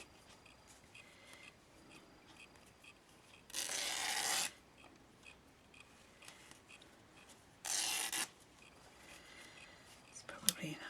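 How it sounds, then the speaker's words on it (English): Fabric strips are torn by hand for tassels, two separate close ripping bursts each lasting under a second against a quiet, faintly whispery background. "I'm just tearing the strips. I love how this just tears in a straight line."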